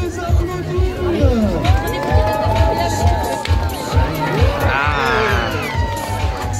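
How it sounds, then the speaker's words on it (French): A crowd at a December event cheering and shouting in a loud, continuous wash of voices, with rhythmic low thumping underneath and a few rising whoops standing out close by. "Allez, on peut les applaudir."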